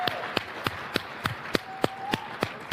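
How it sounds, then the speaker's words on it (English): Crisp claps in a steady, evenly spaced rhythm, about three per second, from an audience at a religious-freedom summit; moderately loud over a faint room hum, with no voices. "And give them another round of applause."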